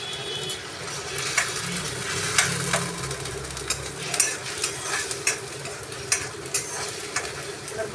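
Spice paste with onion, ginger and garlic sizzles in a pan while being stirred, the spatula scraping in irregular clacks over a steady frying hiss close by.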